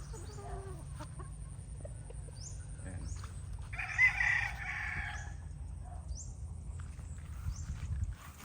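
White bull stag roosters in a yard, with one crow rising clearly midway over a low steady background hum, plus faint scattered chirps and clucks at a distance.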